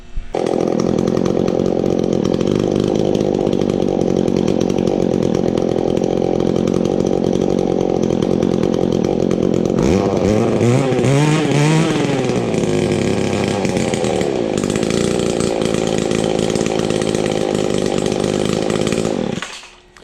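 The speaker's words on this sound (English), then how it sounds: "start it up right away, and see how it idles" A Featherlite XT250 weed eater's small two-stroke engine buzzes loudly and steadily at close range, its pitch wavering and rising briefly midway before settling back into a continuous drone.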